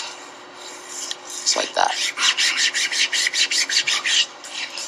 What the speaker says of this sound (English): Rub the tape to activate the glue.